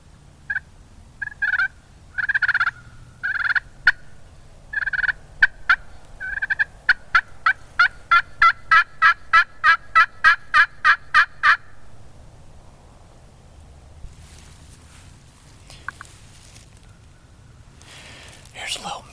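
Wild turkey gobbles come in quick clustered bursts, then a long, evenly spaced run of sharp notes, fairly close, on a still, windless early morning. Quiet follows, broken by faint whispers.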